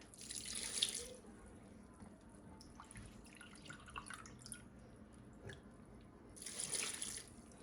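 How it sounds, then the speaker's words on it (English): Vinegar is poured into a pot of homemade salsa sauce being made for water bath canning: two short, faint bursts of liquid pouring, one near the start and one near the end, with quiet kitchen background between them. "Then I'm going to add 2 to 3 cups of vinegar."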